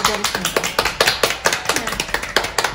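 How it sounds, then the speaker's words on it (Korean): An audience in a Korean art academy claps to welcome a guest, a brisk, fairly close run of regular hand claps lasting a few seconds. "자, 박수로 맞이하겠습니다."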